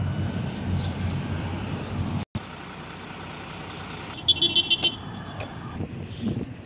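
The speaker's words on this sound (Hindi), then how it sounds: "गाड़ियाँ आप देख सकते हैं लोड होकर जा रही हैं" Loaded trucks roll past a vehicle checkpoint in Saudi Arabia, a steady low traffic rumble with a brief dropout, then a few short horn-like toots and a quieter passing vehicle near the end.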